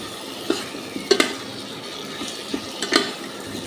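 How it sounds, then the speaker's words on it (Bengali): Spices with cinnamon, cardamom and ginger-garlic paste being stirred and sautéed in a pan for chicken curry, with soft sizzling and a few scraping, clinking strokes of a spoon against the pan, close and fairly quiet. "খুব ভালো করে কষিয়ে নেব।"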